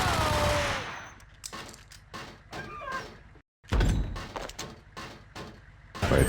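Gunfire rattles through the Max Payne PC game as a rapid burst, then single sharp shots with echoing tails, broken by a brief silence before more heavy shots; loud and close, no talking.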